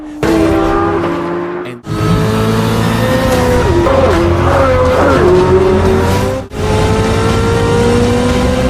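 Chevrolet Corvette Z06 sports car engine revving hard and loud, with rising and falling pitch sweeps across several bursts, briefly cutting out twice between pulls.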